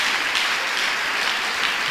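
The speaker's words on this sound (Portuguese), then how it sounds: "Dá mais uma salva de palmas ao Senhor" A church congregation gives a round of applause to the Lord during a service. The clapping is dense, steady and sustained, with many hands close together and no voice over it.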